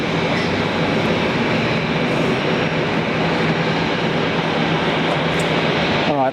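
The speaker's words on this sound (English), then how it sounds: "let's get this Singapore A350 now taxiing to runway 19 right" A Singapore Airlines Airbus A350 taxis toward runway 19 right at Brisbane Airport, giving off a constant dense engine rumble and whine that holds loud and even throughout, with no talking.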